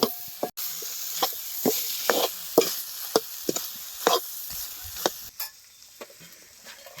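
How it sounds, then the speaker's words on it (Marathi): Drumstick pods being stirred in a pan: a steady frying sizzle with repeated scraping, clanking strokes of a spoon at a loose, irregular rhythm, close and fairly loud, no voices. "आता हे सगळ्याच शेंगासोबत असं छान मिक्स करायचं"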